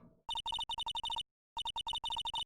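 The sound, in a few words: phone redial tone from a video game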